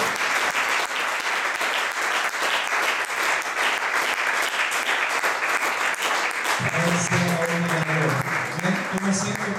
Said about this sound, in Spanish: Demos un aplauso fuerte a Jesucristo.